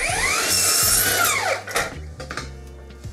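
A hand saw is driven forcefully through a wooden ceiling panel, loud rasping strokes with a ringing blade tone, followed by several shorter scraping pulls; nobody talks.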